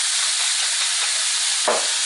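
Vegetables sear in a hot pan for vegan Caribbean-style Christmas fried rice, giving a steady, loud, hissing sizzle that continues without a break, with one brief louder flare near the end.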